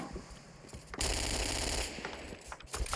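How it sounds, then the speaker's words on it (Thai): Rapid automatic gunfire from a gold-coloured gun in a video game, loud dense bursts of shots running for about a second then continuing more sparsely. "เขาเรียกว่าปืนคนรวยครับสีทองอะ"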